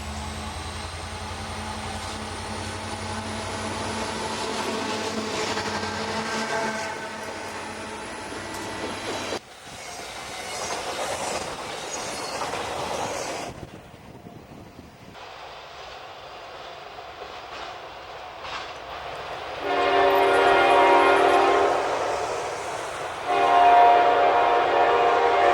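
CSX freight train R129 sliding through Earlington, Kentucky, with long blasts of its air horn over the rumble of the locomotive and wagons; the horn sounds again loudly near the end.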